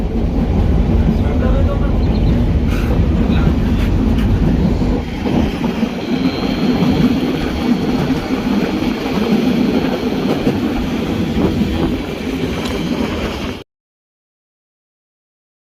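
The Chittagong Mail passenger train runs in Bangladesh with a loud continuous rumble, wheels clattering on the rails close by, and some wheel squeal. The sound cuts off abruptly near the end.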